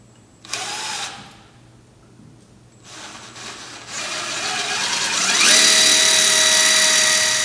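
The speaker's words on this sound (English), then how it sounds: "Gonna drill a small pilot hole real quick before we go ahead and take the bracket off" A power drill bores a small pilot hole into the rear end of a Trans Am roller before a bracket comes off. The motor whirs in short bursts, then ramps up into a loud, sustained, rising whine, close by.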